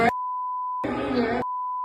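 Censor bleeps covering spoken words on a podcast, two flat electronic tones, one held for most of a second and one at the end, with bursts of speech cut in between.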